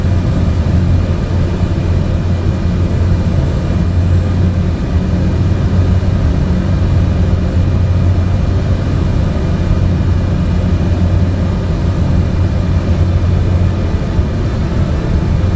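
Aircraft engine held at full RPM in Microsoft Flight Simulator, a steady, loud low drone with a broad roar that stays constant and unbroken throughout, with no voices.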